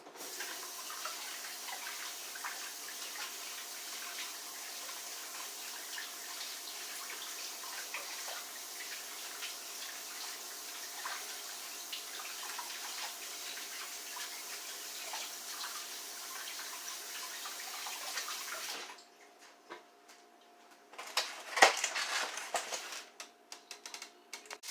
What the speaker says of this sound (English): And I'm gonna wash my hands off.